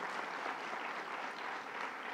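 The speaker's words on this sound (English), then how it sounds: "Give a big round of applause to the Borough President" A crowd at a signing event claps for Borough President Marcos Crespo, a steady wash of applause at moderate distance that holds evenly throughout, with no talk over it.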